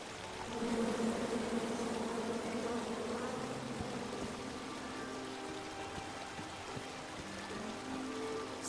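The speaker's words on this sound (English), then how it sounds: "Come at me, bees!" A swarm of bees buzzes in the King's Quest video game, a continuous droning hum that swells in after a moment and holds steady throughout, with faint trickling sounds beneath.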